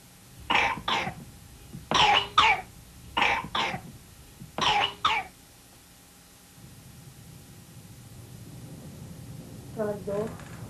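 A young child coughs repeatedly in a home, four or five close, loud bursts of coughs and throat clearing in quick pairs, followed by quiet room noise and a faint voice near the end.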